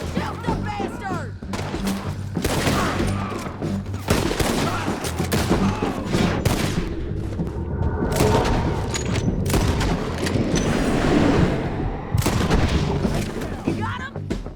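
Gunfire in a Red Dead Redemption 2 shootout: dense, rapid volleys of loud, close shots and booms, with shouting voices mixed in among the cracks.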